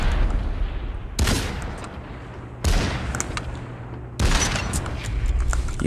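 Rifle fire in the VR game Population One: four loud, evenly spaced shots about a second and a half apart, each a sharp crack followed by a long reverberant decay.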